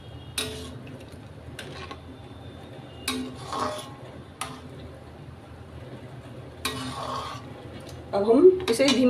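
Makhana kheer being mixed in a pot: several separate scraping and clinking spoon strokes against the metal, with quiet gaps between them and a louder rattling stir at the end, no talking.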